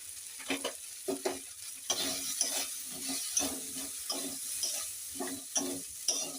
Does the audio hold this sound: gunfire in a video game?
no